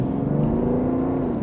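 A BMW 530d diesel engine in a 2019 5-Series Touring revs with a steady, droning hum that rises slightly, heard close and alone.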